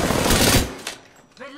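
Loud bursts of rapid automatic gunfire from the shooter game Apex Legends fill the first half second, then fade, with a voice speaking briefly near the end.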